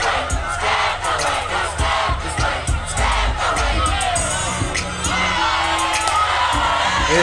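A large crowd cheers and whoops loudly in a rap music video, with dense overlapping yells and shouts filling the whole stretch without pause.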